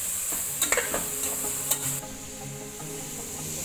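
Tomato being mixed into biryani masala in a pan, a close steady sizzle under several quick spatula scrapes and taps early on, then settling into an even fry.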